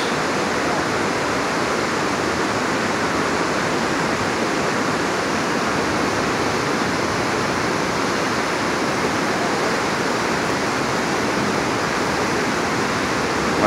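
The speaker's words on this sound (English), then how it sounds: "As you can see, and I know this creek well, it is very high and very swift, very wide." Berea Falls in the Cleveland Metro Parks, Ohio, roars after severe overnight flooding, the high, swift creek pouring as a loud, constant broadband rush without pause or talking.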